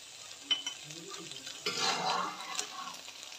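Vegetables sauté with red chili sauce in a pan for veg lollipops, giving a soft, steady sizzle broken by a few spatula scrapes and stirs, fairly quiet and close.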